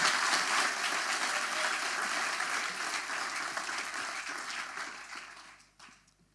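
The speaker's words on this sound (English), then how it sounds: "Big applause for Monica." A tech launch event audience gives a speaker a sustained round of steady applause that gradually thins and fades out near the end.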